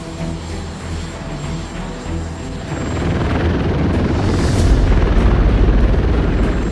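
Presidential squadron helicopters, a mixed fleet of helicopters and tilt-rotor aircraft, produce a loud, steady rotor and engine roar that grows heavier and deeper partway through and holds strong to the end.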